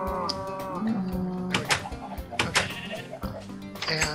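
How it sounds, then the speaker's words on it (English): Sheep and other farm animals in a video game bleat and moo repeatedly in overlapping, closely spaced calls, clear and near, with no talking over them. "The sheep are eating grass and regrowing their wool very quickly."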